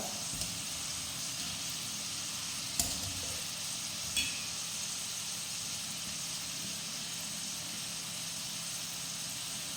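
Garlic and ginger frying in oil for a bitter gourd pickle, a steady broad sizzle running throughout with a couple of brief utensil clicks, no talking.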